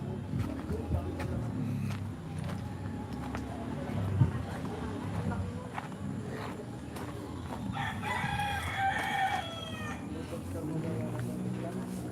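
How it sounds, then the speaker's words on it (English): A rooster crows in the background amid a noisy outdoor scene with people talking and other chatter. "Of course, the roosters."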